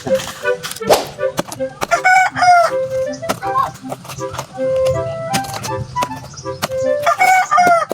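A rooster in a rural backyard after a typhoon crows loudly and close by, again and again, with clucking from other fowl and a voice talking in between.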